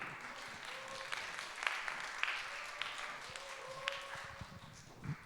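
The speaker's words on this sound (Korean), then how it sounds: "나오실 때 큰 박수 부탁드릴게요." An audience at a young adults' church service claps steadily, a fairly faint, evenly sustained applause with scattered louder individual claps and some movement noise underneath.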